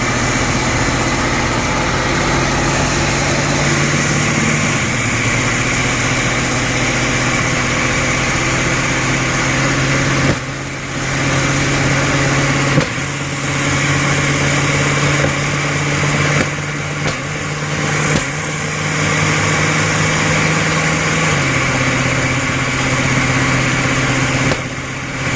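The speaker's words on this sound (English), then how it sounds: "Backfiring up through the carburetor." A small engine runs steadily with a low, uneven idle, punctuated by a few sharp pops and brief dropouts as it backfires through the carburetor; no voices are heard.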